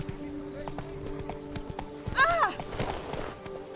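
Hoofbeats of Roach, Geralt's horse in The Witcher 3: Blood and Wine, clopping along at a steady pace with a brief whinny midway, while a voice speaks over them.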